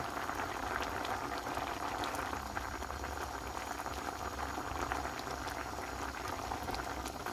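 Carrots boiling in a pot of water to soften, a steady, continuous bubbling and hissing simmer heard close up with no talk.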